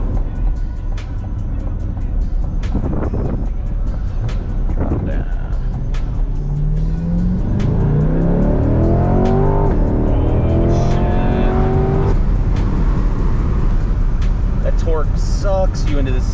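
Chevrolet C8 Corvette accelerating hard, its engine note climbing steadily through the gears, loud and close from inside the cabin over steady road roar.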